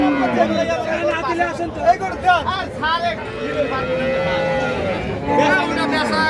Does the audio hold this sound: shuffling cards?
no